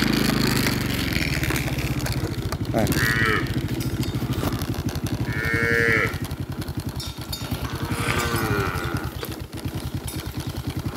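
Cattle mooing outdoors, several long lowing calls rising and falling over a steady rumbling engine drone, moderately near.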